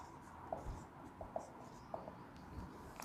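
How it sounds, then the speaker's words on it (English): Chalk or marker writing on a classroom board during a lesson on arithmetic progressions, heard as a few faint taps and short strokes spaced about every half second over a quiet room. "let me write it on the board"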